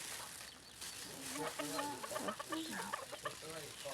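Chickens, white and black birds, cluck and call faintly on a Thai home property, with low background noise and a little nearby talk.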